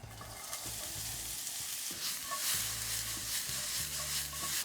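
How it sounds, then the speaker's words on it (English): Onions sizzling steadily in olive oil in a pan, a continuous close frying hiss with occasional stirring scrapes and low rhythmic background tones, no voices. "Alrighty, olive oil in. Lovely. In we go with some onions."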